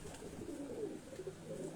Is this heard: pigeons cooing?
yes